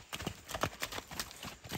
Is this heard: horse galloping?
yes